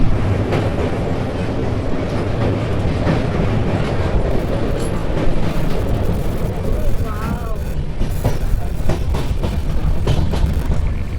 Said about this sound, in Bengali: কখনো জঙ্গল পেরিয়ে আমাদের ট্রেন ছুটে চলেছে নিউম্যাল জাংশনের দিকে